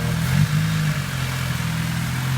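A Honda engine runs after a Y7 to Y8 manifold swap, idling a little high with a steady low rumble and a brief rise near the start, close and loud with no one talking.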